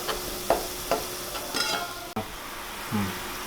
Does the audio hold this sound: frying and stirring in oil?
yes